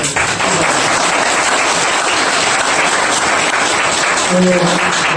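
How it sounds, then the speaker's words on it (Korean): Applause from the audience at a forum lecture in a meeting hall, loud and continuous for several seconds, with a voice speaking briefly near the end. "다시 박수를 한번"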